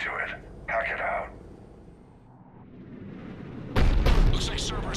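Cerberus cannon in Mass Effect 3 fires with a loud, sudden boom near the end, following softer bursts and a quiet stretch; a deep rumbling blast dominates the final second.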